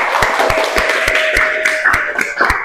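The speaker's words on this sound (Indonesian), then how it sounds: "tepuk tangan untuk kelompok 2" Classroom applause for a student group, a few hands clapping in a loose, fairly regular rhythm, close by and loud, with a faint tone and some room noise underneath.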